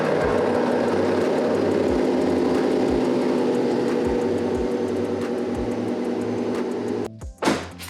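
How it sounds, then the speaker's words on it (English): A car engine, started briefly during an oil change, runs at a steady idle for several seconds, then cuts off abruptly near the end, followed by brief clattering. "I'm gonna give the engine a quick start."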